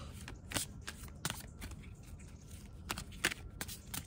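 Oracle cards are shuffled by hand in a quiet, close series of soft slaps and papery rustles, with brighter flicks at irregular moments over a few seconds.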